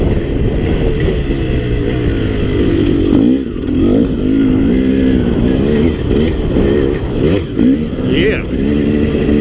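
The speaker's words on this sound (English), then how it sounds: "Fourth gear out of the corner and watching the front wheel just come up on you." Dirt bike engine, a KX 450 or KTM two-stroke, loud and close as it pulls through the gears out of a corner, pitch climbing and dropping with each shift across the whole stretch.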